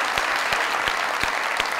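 A studio audience at a Mazaq Raat comedy talk show breaks into loud, dense applause, with steady clapping that fills the whole stretch alone and a few sharper thumps popping out at regular intervals.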